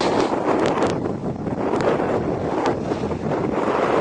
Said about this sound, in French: Le vent est constant et fort